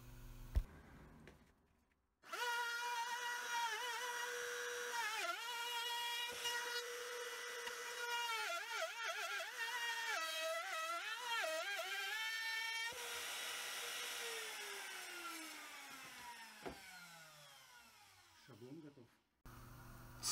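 A router mills a plywood template along the inner radius of an interior arch, running as a steady high whine for most of the stretch with pitch shifts as it cuts, then spinning down near the end.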